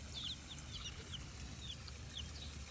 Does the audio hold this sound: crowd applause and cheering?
no